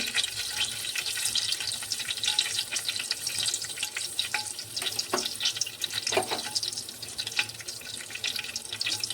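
Tempering spices frying in hot oil in a pan give a close, continuous crackling sizzle with small scattered pops and stirring sounds. No voices.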